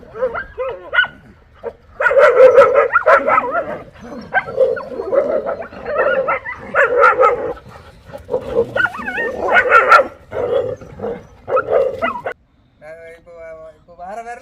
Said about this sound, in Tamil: இப்போ இதை பார்த்துட்டு அதுங்க எல்லாமே குலைக்குது.